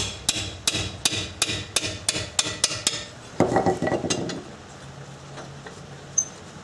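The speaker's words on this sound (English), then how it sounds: "so I like to use a 3-pound hammer." A 3-pound hammer strikes a Subaru caliper bracket in about ten sharp metallic blows at a steady rhythm, followed by a scraping, rattling clatter and one last isolated clank, all close and clear.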